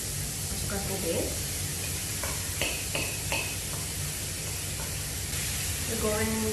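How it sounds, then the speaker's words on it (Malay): Cabbage frying in a pan until soft, a constant hissing sizzle with a few clinks and stirring scrapes, with someone speaking briefly over it. "Kita goreng hingga lembut lah."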